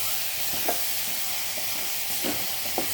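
A bottle gourd and tomato curry with chili powder is stirred in a pan: a soft sizzling hiss with several spoon scrapes at uneven intervals, moderately quiet and close.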